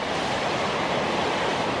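Heavy storm surf pounds a rocky island shore, a steady, loud, broadband roar of crashing waves with wind noise and no breaks.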